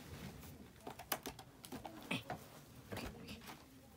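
Quick, irregular clatter of fingers typing on a computer keyboard, close and fairly faint, in short bursts of keystrokes with brief pauses.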